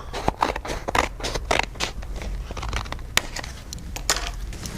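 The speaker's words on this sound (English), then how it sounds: "Hopefully I can cut it all at the same time. And I'll just cut it straight up the middle." Scissors slice through a stack of paper for an art project, making repeated crisp snips and crunchy scraping cuts at close range, with no voices.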